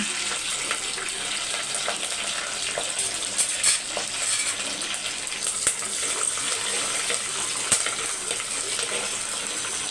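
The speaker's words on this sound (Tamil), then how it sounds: "கடுகு வந்து பொரிய ஸ்டார்ட் ஆகிடுச்சு ரெண்டு காஞ்ச மிளகா ரெண்டு பச்சை மிளகா அதுக்கப்புறம் கருவேப்பிலை" Mustard seeds, dried and green chillies and curry leaves frying in hot oil, a dense steady sizzle with scattered sharp pops and crackles, close and continuous.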